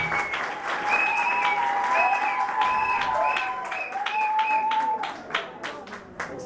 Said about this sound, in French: Applaudissez fort, s'il vous plaît.